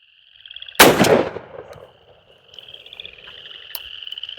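A shotgun fires an Apex TSS turkey shell at a target outdoors: one sharp, loud blast that fades quickly, with frogs croaking steadily in the background before and after.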